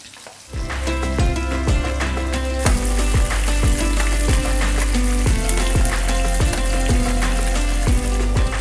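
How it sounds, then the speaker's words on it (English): Fish skin crisps in olive oil in a pan, giving a loud, steady sizzle that swells after a quiet start, with regular faint ticking throughout and no talking. "on this stage, you're just crisping the skin"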